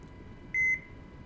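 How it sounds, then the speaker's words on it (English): A single short electronic cockpit beep in an HH-65B helicopter in Microsoft Flight Simulator 2024 sounds over a low steady hum, clean and fairly loud, lasting a fraction of a second. "I hear the beep, the chimes"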